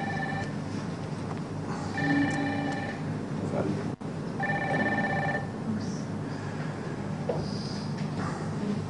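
A mobile phone rings in a room, its electronic tone sounding in two repeated bursts over a steady background of talk.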